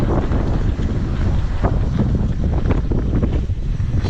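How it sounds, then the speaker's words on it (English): Gusty wind buffets an outdoor microphone beside a Windone S14 folding electric bike, a continuous loud low rumble with uneven flutters and no talk over it. "It's a little windy out here today."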